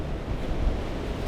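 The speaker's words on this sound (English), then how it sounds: "The water flowing underneath it." Water flowing beneath a small bridge over a drainage dike on a very windy day, a steady broad rush mixed with gusting wind noise on the microphone, no voices.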